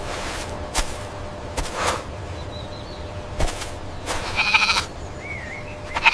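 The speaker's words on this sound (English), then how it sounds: "Goat. This is a goat." Goat bleating in several short, wavering cries spaced across the clip, close and clear over a steady outdoor background hiss, with a few sharp clicks.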